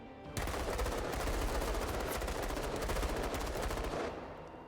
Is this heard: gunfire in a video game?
yes